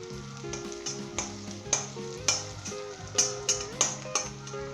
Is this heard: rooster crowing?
no